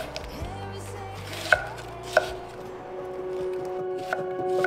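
Knife chopping vegetables for large-batch meal prep, with a few sharp board strikes standing out over quieter steady cutting and a low background hum, no talking.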